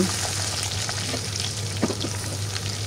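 Chicken leg pieces frying in oil, a dense, loud, continuous sizzle with a steady low hum beneath and a faint scrape midway.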